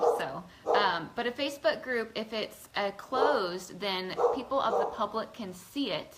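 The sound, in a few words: dog barking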